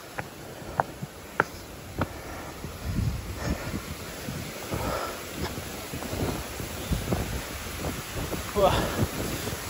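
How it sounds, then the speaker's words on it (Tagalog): Strong wind blows across the coastal rock formations of Yeliu Geopark in Taiwan, a steady rushing noise, with sharp knocks early on and people talking intermittently over it. "Sobrang lakas ng hangin."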